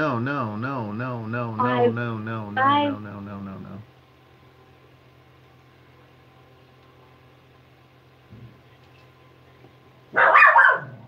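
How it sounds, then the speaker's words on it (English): A dog barks several times in quick succession close by at a UPS delivery driver, followed by a quiet engine hum and one more burst of barking near the end. "my dog Macaroni's barking at the UPS driver."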